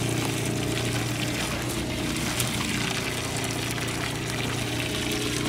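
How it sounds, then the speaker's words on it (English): A camper trailer's onboard water pump runs steadily with a low hum while water pours straight out of the bottom outlet with no hose attached, a constant splashing flow throughout. "the water's coming straight out the bottom there"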